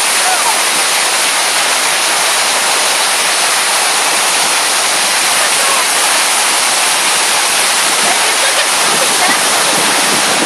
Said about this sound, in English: This is Williams Waterfall.